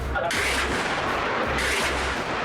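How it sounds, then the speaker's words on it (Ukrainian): Gunshots and explosions in war-torn Aleppo during fighting between the Syrian army and rebels: a loud, dense, continuous barrage with heavy booms rolling under it. "Постійно лунають постріли та вибухи."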